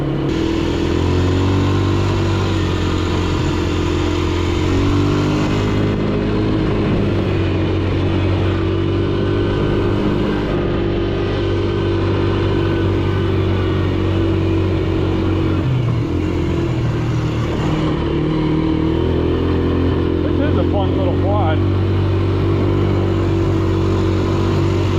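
A Polaris Sportsman 90 ATV's small engine runs close and loud for the whole stretch, its pitch rising and dipping through repeated revs before settling back toward idle.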